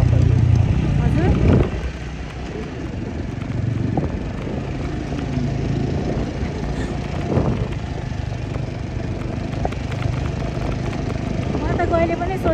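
A motorcycle is ridden along a mountain road toward Manang. Its engine gives a steady low rumble throughout, with wind noise over it.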